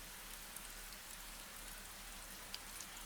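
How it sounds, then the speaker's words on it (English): Rain falls over an old garden in the evening, a faint, even hiss with a few soft scattered drop ticks and no voices. "the rain falling patiently over the old garden"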